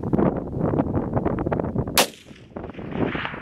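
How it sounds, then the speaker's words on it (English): A single loud rifle shot is fired at an aoudad ram while hunting in West Texas, a sharp crack standing out about two seconds in, with outdoor rustling and movement before and after. "Yeah, shoot him if you can."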